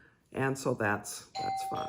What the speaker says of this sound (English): Now, that was the doorbell